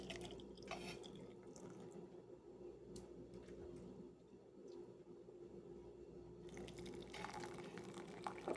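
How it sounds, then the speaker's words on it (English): Bean soup liquid poured into glass canning jars, a faint continuous trickle and pour with soft drips and light clinks over a low room hum, quiet throughout. "So now I'm going to backfill with the liquid to the 1-inch headspace"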